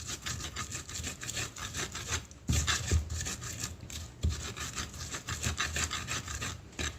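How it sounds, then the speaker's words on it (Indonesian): Candlenuts ground by hand in a mortar with a pestle, a continuous rough rubbing and scraping in repeated strokes, close and fairly loud, with a couple of sharper knocks. "sudah dikepuk gitu baru saya akan ulek"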